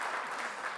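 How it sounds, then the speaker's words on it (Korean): A church congregation at a year-end worship service gives a short burst of thankful applause. The clapping is fairly faint and blurred, lasting under a second. "우리 큰 박수 한번 올려드리고 감사 박수 드리고"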